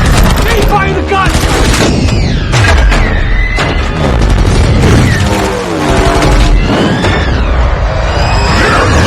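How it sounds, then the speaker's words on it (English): Alien guns fire in rapid volleys during a Transformers: Age of Extinction chase scene, with loud, dense bursts and booms layered over roaring effects and a voice shouting. "Fire the gun!"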